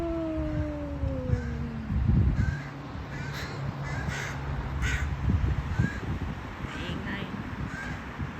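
Crows caw repeatedly outdoors on a sunny morning, the loud harsh calls coming from overhead at varied distances, with a voice speaking quietly at times beneath them.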